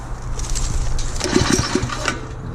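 Small petrol engine of a Forest Master wood chipper running steadily up close, a low, even drone with a few sharper knocks and rattles partway through.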